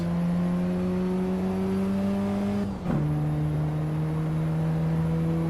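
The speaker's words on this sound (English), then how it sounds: "I need to keep the revs up" A race car engine in Assetto Corsa EVO holds a high, steady whine that climbs slowly, dips sharply at a gear change, then settles and carries on, loud and close with no talk.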